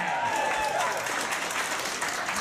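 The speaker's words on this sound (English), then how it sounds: "Don't clap that." A comedy show audience claps and cheers in a broad, steady wash of applause lasting a couple of seconds, with no clear speech over it.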